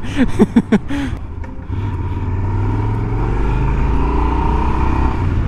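A car drives past in the MotoRider video game, its engine note swelling into a steady drone after a few brief sharp sounds at the start.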